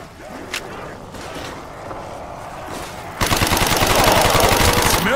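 Rapid automatic gunfire in the zombie mode of Black Ops 1 on the Kino Der Toten map, starting faint and then bursting loud and dense for the last two seconds with sustained rattling shots.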